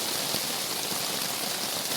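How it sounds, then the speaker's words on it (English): Heavy rain pours down in a steady, dense hiss with no pauses, loud and close, drops drumming continuously on surfaces. "it's raining out very hard during an expedition."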